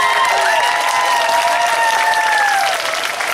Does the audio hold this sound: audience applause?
yes